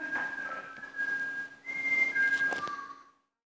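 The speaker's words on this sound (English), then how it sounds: "you can whistle a theme to Superman" Whistled melody of the Superman theme during a workout warm-up, a steady tonal line with sliding pitch changes lasting about three seconds, alone and fairly close, stopping abruptly.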